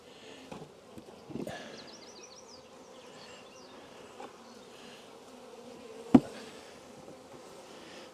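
Honey bees buzz faintly around a five-frame hive box, a thin, steady drone with a few louder passes close by and a sharp knock partway through.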